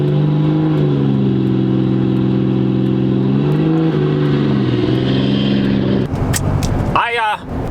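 Cummins diesel pickup revving hard during a tire burnout, a loud sustained engine roar close by that rises and shifts pitch before breaking into a ragged surge at the end.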